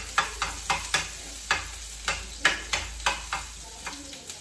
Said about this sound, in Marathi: तेल गरम झाल्यानंतर त्याच्यामध्ये आलं लसूणची पेस्ट,